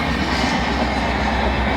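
A train rushes past close by with a loud, dense rumbling roar and rattling wheels that fill the whole short stretch.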